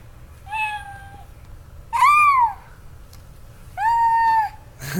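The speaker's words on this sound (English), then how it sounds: "That's a kitty cat." A children's toy plays a cat's meow: three drawn-out electronic meows, loud and close, separated by short gaps over a steady background hiss.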